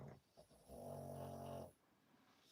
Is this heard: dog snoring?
yes